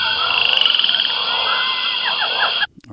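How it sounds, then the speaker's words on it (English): Dense rainforest ambience with frogs croaking steadily, a bright high insect-like drone above and chirping calls sliding through, ending abruptly. "the sound that I'm going to go for is this rainforest one."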